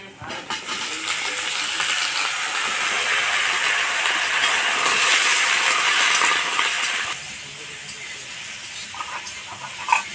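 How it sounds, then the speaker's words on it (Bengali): Ridge gourd added to potatoes and onions frying in a pan: a loud, broad, steady sizzle that eases to a softer hiss near the end. "আলু আর পেঁয়াজ ভাজা হয়ে গেছে, এবার আমি ঝিঙে দেবো।"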